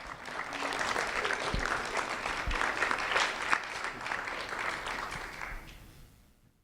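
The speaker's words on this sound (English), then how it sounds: "a round of applause for Aliana Curry" A round of applause from an audience honoring a third-grade student at a sheriff's office award ceremony, steady clapping from a moderate crowd that swells and then fades away toward the end.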